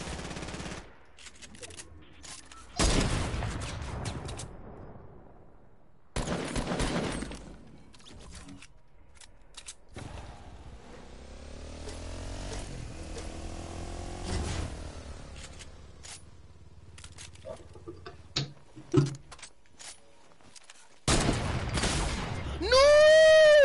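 Video game gunfire: bursts of rapid automatic shots and single cracks come at intervals, mixed with other in-game effects and a rising electronic tone near the end.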